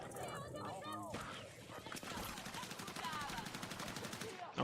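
Rapid automatic gunfire crackles in Battlefield 6, a dense stream of shots under voices talking.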